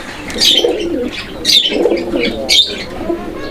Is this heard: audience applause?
no